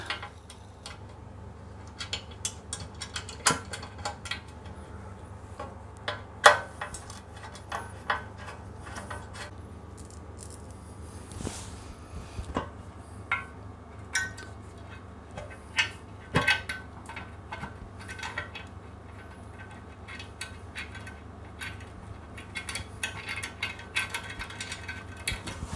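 Bolts tightened on the bash plate of a 2021 KTM 390 motorcycle, heard as faint scattered ratchet clicks and soft metallic taps, close but quiet over a low steady hum.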